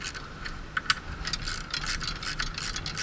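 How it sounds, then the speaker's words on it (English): A 9/16 ratcheting wrench tightens a bolt during a guardrail installation, giving a close, fast series of bright clicking pawl ticks in uneven bursts with no talk. "9/16 wrench is a good place to start."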